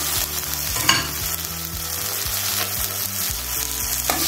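Chopped okra (vendaikai) sautéing in hot oil in a pan for chutney, a steady close sizzle with scraping stirs and soft clatters throughout, no talk.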